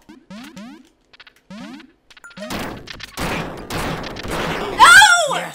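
Gunfire from a slow-moving projectile weapon in Duck Game, a chaotic multiplayer video game, bursting in dense noisy blasts after a few seconds of quiet chirpy game sounds, ending in a louder crashing flurry.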